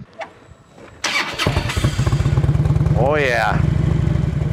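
A Harley-Davidson Road King with sequential port fuel injection cranks over and fires up, then settles into a loud, lumpy, throbbing idle up close while someone briefly speaks over it.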